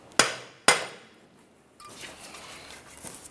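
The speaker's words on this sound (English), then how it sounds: "Just going to use a brass punch right along here, tap on it with a hammer." Two sharp, ringing hammer blows on a brass punch against the starter of a 2012-2015 Honda Civic 1.8L L4, close and spaced about half a second apart, followed by quieter rustling and handling noise.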